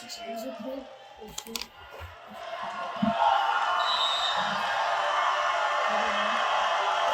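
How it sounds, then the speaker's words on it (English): Crowd noise at a Division I college volleyball match, Eastern Washington at Idaho, swelling into sustained cheering as a server steps up, with a commentator talking over it early on. "Crowd comes alive behind Brugman"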